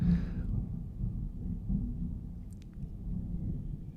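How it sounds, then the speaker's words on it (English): Low, distant thunder rumbling steadily, a deep rolling drone that swells and fades without speech. "we're in the middle of a real bad thunderstorm here"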